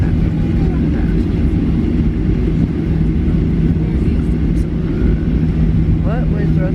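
A Southwest Airlines Boeing 737-800 landing at Las Vegas McCarran on a windy day, heard from inside the cabin as a loud, steady engine and airflow roar that continues throughout, with a brief voice near the end.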